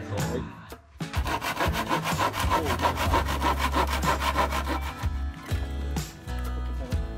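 A handsaw cuts wood along a marked line during a barn renovation, giving loud rhythmic back-and-forth rasping strokes up close, with a brief pause before the sawing continues and no talking.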